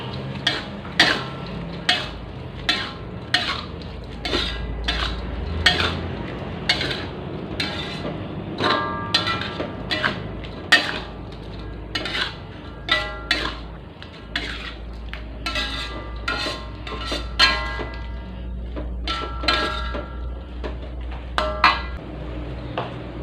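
Metal spatula stirring bean sprouts and tofu in a pan, clanking repeatedly against the metal in quick irregular scrapes and taps, close and fairly loud over a low stovetop hum, with no voices.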